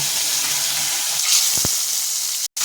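Bhola fish fries in hot oil in a wok on a gas stove, giving a steady, close hiss and sizzle with a couple of brief low knocks, and no one speaks.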